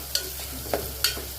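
A spoon stirs pepper chicken in a hot pan, giving three short scraping strokes over a low steady sizzle, close and fairly quiet.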